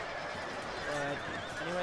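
Horses neighing amid a cavalry battle in the Shogun 2 Total War video game, a couple of whinnies rising over a dense wash of battle noise and clamour.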